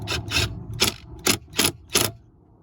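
Screw driven by hand into a plastic trim plate behind a Nissan Titan, Armada or Infiniti QX56 glove box: five short ratcheting rasps spaced about half a second apart, close and clear, with no talking.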